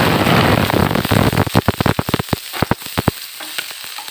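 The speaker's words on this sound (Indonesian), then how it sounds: "kita tumis ya" Shallots stir-frying in oil in a pan, starting with a loud, dense sizzle that breaks up into rapid crackling spatters and then thins to sparse pops, close up with no voices.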